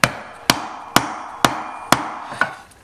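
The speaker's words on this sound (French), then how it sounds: "à l'aide d'un maillet, vous tapez tout simplement dessus et votre joint SPI sera donc parfaitement rentré et à fleur" A mallet tapping an oil seal into a Minarelli engine casing through a spacer, six evenly spaced sharp strikes about half a second apart, close and loud with no talk.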